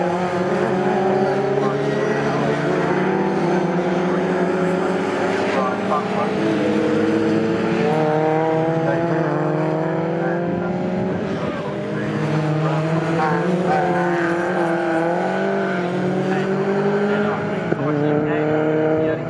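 MG race cars at Snetterton circuit roar past in a dense pack, engines rising and falling as they shift gears. A commentator talks over the continuous loud racing.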